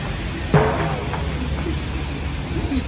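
Steady rain falls outside during a trip to a temple in Wang Noi, Ayutthaya, a dense continuous hiss with a brief louder knock near the start, no talking.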